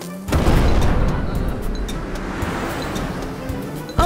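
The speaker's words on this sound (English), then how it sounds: "I think the volcano is erupting" A cartoon volcano erupts in a loud, sustained rumble of booming, roaring noise that swells abruptly and holds steady for several seconds, like a continuous eruption blast.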